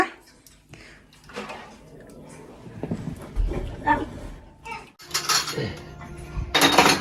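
Dishes, pots and cutlery clatter and clink as two young siblings help their mother wash up, irregular knocks and scrapes that grow busier and louder toward the end, with children and an adult talking throughout.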